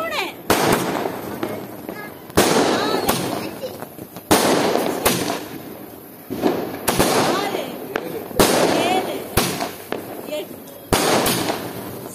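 Multi-color sky shot fireworks at a Diwali celebration fire off in a rapid series of sharp, loud bangs and crackling bursts, with voices in the background between the blasts.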